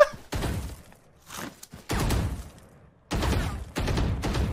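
Valorant gunshots in bursts, loud close rattling fire separated by short silences, repeating in several clusters across the span with no talk.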